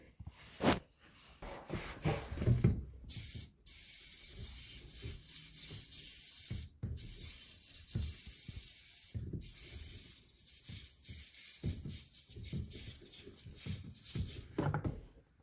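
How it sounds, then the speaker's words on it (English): An aerosol can of brake cleaner hisses in long, loud bursts with brief pauses between, sprayed during an oil change on a 2013 Kia Rio, alongside scattered clicks and rubbing handling noises up close. "spray this area out with some brake cleaner"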